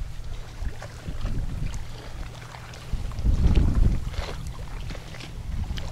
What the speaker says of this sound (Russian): Немного ветер поднялся.